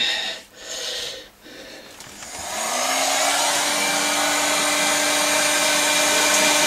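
A heat gun heats the inside of a toilet pipe elbow, starting after a few short breathy puffs and handling noises, then settling into a steady, loud, continuous blowing roar with a faint tonal whine.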